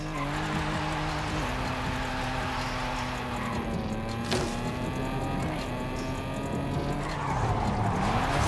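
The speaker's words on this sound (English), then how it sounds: "Let's go ahead now and jump straight into the drifting." A car drifting in Forza Horizon 5, with sustained tire squeal over a steady engine drone that holds loud throughout, pitch sliding as the car slides through the corners.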